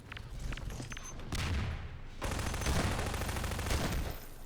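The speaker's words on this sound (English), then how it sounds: "Sword's able to sneak up through rocket and get a kill with the shotgun" Gunfire in a Half-Life 2 Deathmatch one-on-one match, with rapid volleys of shots and a heavy shotgun blast, plus brief footsteps. Loud, dense bursts run almost the whole time with no speech.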